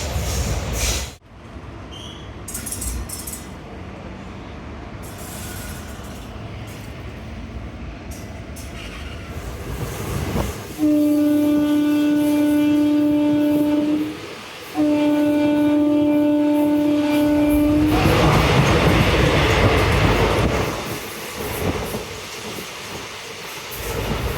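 The Rameswaram Amritha Express passenger train running near Oddanchatram on the Dindigul–Coimbatore route, a loud continuous rumble of rolling wheels with a long sustained high wheel squeal midway, heard from on board without talk.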